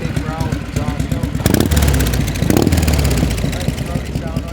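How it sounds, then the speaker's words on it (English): A 1980 Harley-Davidson FLT motorcycle idles up close with a loud, uneven, loping exhaust beat, swelling in two brief blips before settling back to its throaty rhythm while someone talks over it. "Nice big growl exhaust note."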